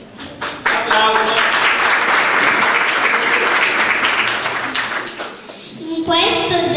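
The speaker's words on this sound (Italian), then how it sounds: "Applauso." Applause fills a room at a children's Befana Epiphany event, a loud sustained burst of clapping that fades, with voices speaking before and after.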